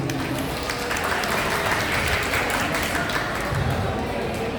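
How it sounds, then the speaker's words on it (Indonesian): Audience applause at a mall martial-arts event where a sword-cutting demonstration is held, steady dense clapping filling the whole stretch with crowd noise mixed in. "Oke, tepuk tangan buat Susani."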